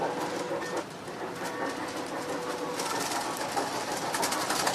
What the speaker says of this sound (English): But I got the train running